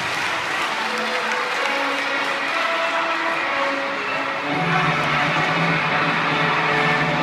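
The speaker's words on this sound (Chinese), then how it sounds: "谢谢各位热烈的掌声" A large audience claps warmly after a taiko drum performance opening an elementary school sports day, a steady, sustained roar of applause with faint tonal sounds underneath.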